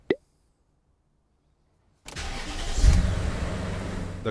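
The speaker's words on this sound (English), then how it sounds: "The car is lowered back to the ground and driven back and forth off the ramp for the suspension to settle to right height." A BMW E39 M5 is lowered from a ramp and driven off it. A single click is followed by silence, then a steady engine and rolling rumble rises and holds at close range.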